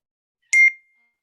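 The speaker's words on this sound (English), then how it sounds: "phone just went off in the background" A phone going off in the background gives a single brief electronic chime, a short bright ping with a quick decay, isolated in otherwise silent surroundings.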